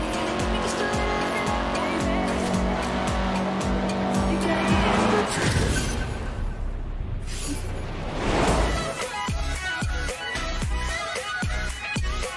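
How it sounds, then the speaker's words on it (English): A car drifts in the Forza racing game, engine revving hard as tires squeal and skid through long slides, with a rushing swell midway and gear-driven engine pulses throughout. "It's hard to drift in this game."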